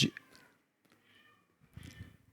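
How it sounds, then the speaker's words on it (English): A pet cat meows in two short bursts, a brief loud cry at the start and a longer, softer one near the end, close by with quiet between. "My cat has something to say."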